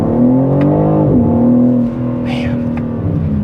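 A 2025 BMW M3 with a ZF 8-speed automatic in its fastest shift mode roars under acceleration from inside the cabin, its engine note dropping sharply at quick upshifts before climbing again.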